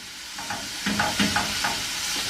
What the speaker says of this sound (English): once all your bacon's in, it shouldn't take too long to cook, just about 1 minute on each side